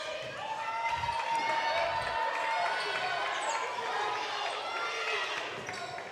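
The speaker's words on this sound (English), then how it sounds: "The Payson crowd is loud now" A home crowd roars loudly and steadily through a girls basketball game, with a ball bouncing on the court and a commentator talking over the din.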